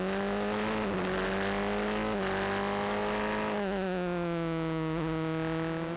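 Formula 3 race cars at Brands Hatch circuit, engines screaming loudly and continuously with rising and falling pitch as they accelerate and shift through gears, close by and without talk.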